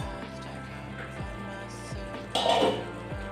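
A metal lid is lifted off a wok of simmering potatoes, giving one brief clank and rattle against the rim partway through, set against a low steady kitchen hum.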